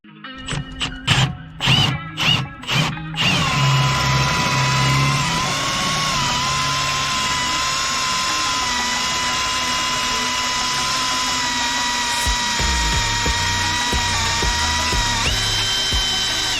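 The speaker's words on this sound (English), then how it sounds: "you need to get a drill and drill out the screw" Power drill boring out a seized brake disc retaining screw on a Mk1 Audi TT: a few sharp bursts and clatters, then a loud sustained whine that wavers slightly before stopping, followed by light clinks.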